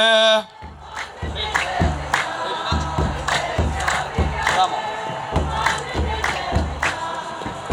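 A church congregation ululating in praise, shrill trilling bursts repeating in a steady rhythmic pattern with loud crowd voices throughout.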